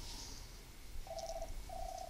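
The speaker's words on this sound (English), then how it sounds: "My phone is ringing, you can ignore that." A phone rings in the room, two short electronic trill tones sounding one after another at moderate volume over a quiet background, with no talking.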